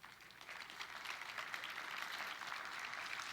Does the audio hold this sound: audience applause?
yes